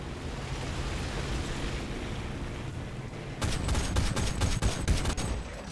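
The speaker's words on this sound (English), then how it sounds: "Somebody's shooting at somebody." Gunfire in a tank battle game featuring the Japanese Chi-Ha tank: a dense burst of sharp shots and rapid repeated cracks breaks out after a rumbling engine and ambient background, loud and close.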